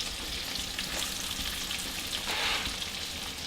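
Mushrooms frying in a pan with sausage for a country-style omelet, a loud continuous close sizzle with a brief stirring rustle partway through and no talking.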